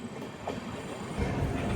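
Heard from on board, the Seshadri Express with new LHB coaches rolls into Rajahmundry station as a low, steady rumble that thickens slightly near the end, soft and continuous.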